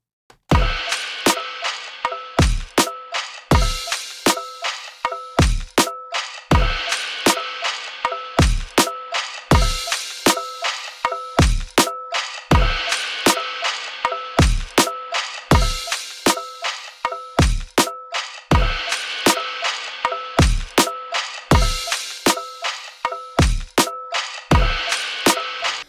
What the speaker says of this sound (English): blend this channel in with our drum loop